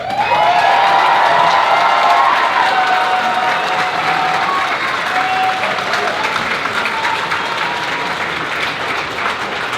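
Big audience applause with cheers and whoops at a BronyCon fan convention panel, loud at first and slowly easing while staying dense.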